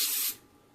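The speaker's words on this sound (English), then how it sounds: "a little bit of spray" Cooking spray misted onto coated vegan nuggets, a single loud hiss lasting about a third of a second before cutting off into quiet.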